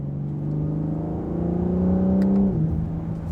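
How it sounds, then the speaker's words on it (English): A 2025 BMW M4 Competition xDrive engine revs up with a rising whine, then drops sharply as the gear changes, close and fairly loud. "I'm literally shifting gears right now."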